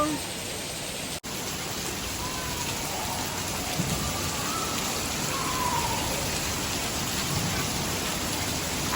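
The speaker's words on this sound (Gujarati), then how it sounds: "અમારા ત્યાં તો આવો વરસાદ છે" Steady rain falls in a broad, even hiss, with faint voices in the distance beneath it and a brief dropout near the start.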